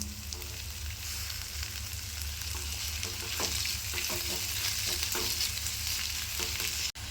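Chopped tomato hitting a pan of sautéed onion and ginger-garlic paste for a veg gravy, a loud continuous close sizzle broken by irregular spoon scrapes and taps, with no talking.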